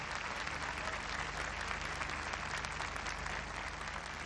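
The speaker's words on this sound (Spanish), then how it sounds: "Queremos felicitar con este aplauso a los ganadores por elección popular" A festival awards crowd claps steadily for the winners, continuous applause heard at a moderate distance with no speech over it.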